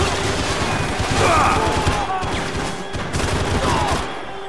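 Intense gunfire in the video game Max Payne 3, a dense, loud barrage of rapid shots that keeps going through the whole stretch with little letup.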